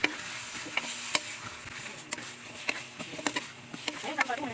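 Soft, irregular scraping and clinking of a utensil stirring chicken in a pot, over a low sizzle, with no talking.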